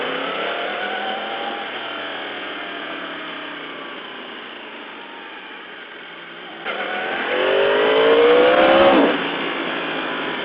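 A motorcycle engine revs under throttle with a steady droning pitch that climbs in a louder surge near the end, recorded close through a band-limited mic, with no speech.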